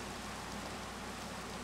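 Steady hiss of rain in Minecraft with shaders along a shoreline, a constant even wash with no voices, holding at one level throughout.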